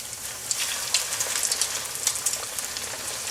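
Steady sizzling and crackling of chicken frying in hot oil, a constant hiss dotted with small pops.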